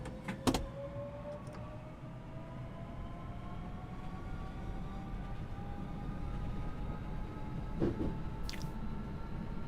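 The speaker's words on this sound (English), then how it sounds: "Train moves forward." A Class 465 Networker electric train pulls forward in Train Sim World 2 on the Southeastern High Speed route, with a steady low rumble, rising motor whine tones as it accelerates, and a couple of sharp clunks.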